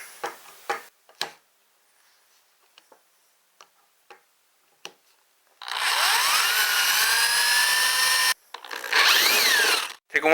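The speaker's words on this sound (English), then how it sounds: "Just drill a hole in it." A power drill bores a hole through a quarter-inch-thick steel plate, running in two sustained whining bursts after a series of sharp ticks and taps, close and alone.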